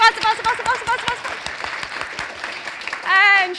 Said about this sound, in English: start giving yourself a bit of a round of applause and just clap